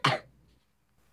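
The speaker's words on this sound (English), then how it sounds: "I need to cough." A single short, sharp cough up close, followed by near silence.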